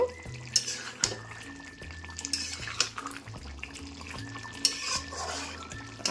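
Spoon stirring chicken curry in a pot just after a little sugar goes in, with soft scraping and clinks of metal against the pan in an irregular rhythm, close and moderately loud.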